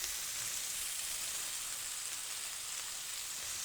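Spicy chicken fajitas with onions sizzling steadily in a pan on low heat, a constant close, even frying hiss with no talk.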